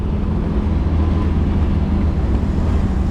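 An old Willys jeep with no brakes running while driving near a shop gives a steady, loud low engine drone with wind buffeting, continuous throughout and with no talking.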